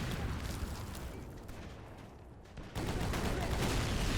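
Gunfire in a shooter video game, aimed at enemies rushing toward the edge of a trench. Dense, continuous shots crackle throughout, dip briefly, then return louder.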